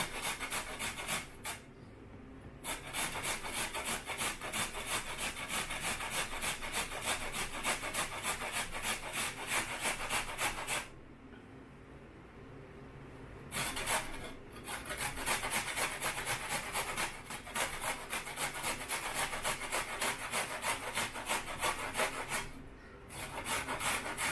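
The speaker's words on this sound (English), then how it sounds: "Let's do this chunky one right here. I think this would be good. We're just gonna break that right up." Beets are grated on a box grater in long runs of rhythmic rasping strokes, close and steady, broken by a few short pauses, with no talking.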